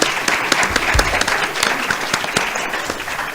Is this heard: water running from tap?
no